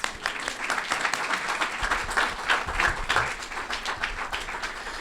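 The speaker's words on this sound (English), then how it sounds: "I think that deserves a round of applause." A conference audience at a fireside chat on competitive integrated employment breaks into steady applause, a dense patter of many hands clapping that carries on for several seconds at moderate volume.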